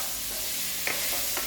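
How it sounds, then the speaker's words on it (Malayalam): Chopped cabbage being stirred in a frying pan on a home stove, giving a soft, steady sizzle with a few faint scrapes and clinks of the spoon against the pan near the end, brief and quiet with no voices. "നമുക്ക് കാബേജ് അരിഞ്ഞത് ഇട്ട് കൊടുക്കാം. നമുക്ക് മിക്സ് ചെയ്യാം."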